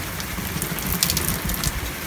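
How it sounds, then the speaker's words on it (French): Steady rain pours down during a storm, a dense, continuous hiss with scattered patters of drops striking a nearby surface, no voices present. "il y a de la pluie"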